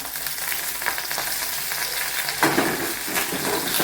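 Green chillies and curry leaves sizzle in hot oil alongside sliced onions, a constant bright crackle with a few louder spits, close and alone.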